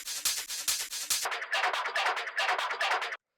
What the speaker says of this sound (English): And then this little shaker that I chopped up as well.